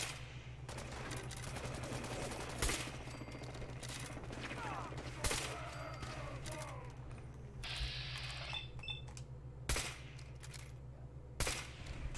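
Gunfire from gunners in Fallout 4 with the Automatron DLC: scattered sharp shots and short automatic bursts, some louder spikes, set against a steady low hum and faint clicking, with speech mixed in.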